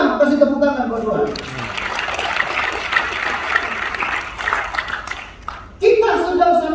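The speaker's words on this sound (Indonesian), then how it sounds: "Kasih tepuk tangan buat Tuhan." Congregation applause during a church sermon in Singapore, a dense, sustained wash of clapping of several seconds, moderately loud, with a voice speaking just before and right after it.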